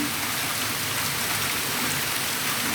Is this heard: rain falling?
yes